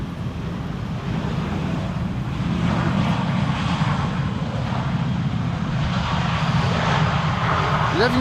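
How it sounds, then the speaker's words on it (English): Qatar Airways Boeing 777-300 arriving from Doha in gusty crosswind, a loud, steady engine roar with low rumble and wind buffeting on the microphone throughout. "Qatar Airways 777-300 arriving from Doha, 6 hours and 19 minutes on the way"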